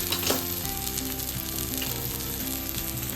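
Breaded chicken escalope frying gently in a pan over a low flame, a steady close sizzle with faint crackles and a few soft stirring touches, no voices.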